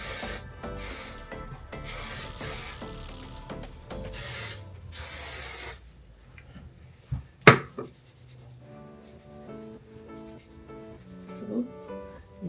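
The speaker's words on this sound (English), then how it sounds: "And then I'm gonna put hairspray to seal it more." Several short bursts of hairspray hiss onto hair in the first half, followed by quieter handling sounds and a sharp click or tap, with no talking.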